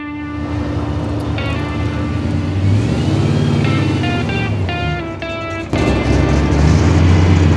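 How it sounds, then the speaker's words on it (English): A classic 1955 car drives past with a steady, loud engine drone and a rising pitch midway, layered with other tonal sounds and a sudden shift near the end. "there's a guy driving around a sweet 55"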